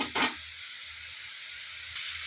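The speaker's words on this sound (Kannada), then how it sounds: "ಪಾಲಕ್ ಸೊಪ್ಪಿಂದು ನೀರೆಲ್ಲ ಬಿಟ್ಕೊಂಡಿದೆ ಕಣ್ರಿ ಆ ನೀರೆಲ್ಲ ಸುಂಡಬೇಕು ಅಲ್ಲಿವರೆಗೂ ಇದನ್ನು ಈ ಎಣ್ಣೆಲೇ ಫ್ರೈ ಆಗಲಿ" Spinach (palak) frying in oil in a pan, giving a steady broad hiss of sizzling and steam throughout, with a brief louder burst near the start.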